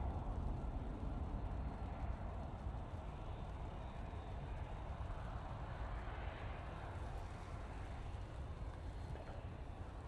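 An Etihad airliner approaches to land at Manchester Airport on a gusty day, heard as a faint, steady, distant roar that holds even for the whole stretch, with no voices.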